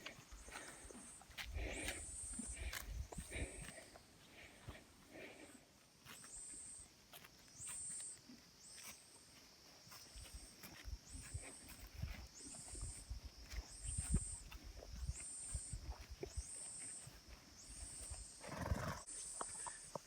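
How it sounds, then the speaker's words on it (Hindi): Horses and mules on a steep mountain trekking trail, heard as soft irregular hoof steps and shuffling at close range with faint animal snorts, outdoors with a steady high bird-like chirping pattern above; no talking. "Wow, there are more horses."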